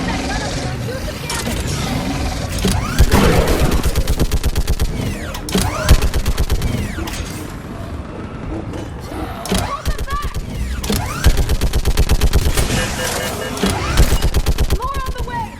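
Mass Effect 3 mounted gun firing in long, loud rapid bursts over mechanical clanking and battle noise, with voices speaking at times under the steady gunfire.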